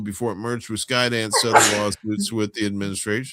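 A single sharp sneeze bursts out in the middle of steady talk about news coverage and lawsuits, loud and close, with speech continuing on both sides of it.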